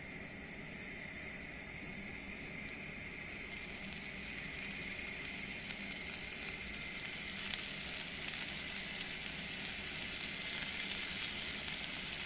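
Chicken skewers sizzle in a hot cast-iron pan, a steady, close, loud frying hiss with crackling that runs continuously throughout, no voices.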